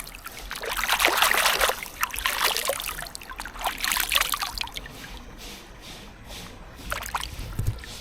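Water splashes and trickles nearby in uneven bursts, louder at first, then quieter with a few later splashes, no talking.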